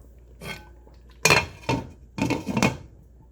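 Lid set back onto a pot of simmering ital stew, a few close metallic clanks and rattles in quick succession.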